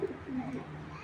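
A single pigeon gives a short, soft, low coo, fairly close and alone.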